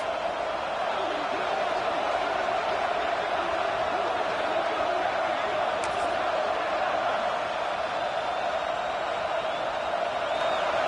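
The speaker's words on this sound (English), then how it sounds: "The roar of the crowd trying to fuel this defense to keep them pinned in their own end" A college football stadium crowd in a dense, unbroken roar that holds at a constant loud level throughout, thick and far-reaching with no single voices standing out.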